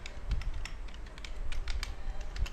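Rapid typing on a computer keyboard, a steady stream of close, crisp key clicks with brief pauses, no talking.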